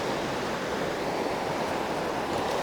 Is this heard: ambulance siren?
no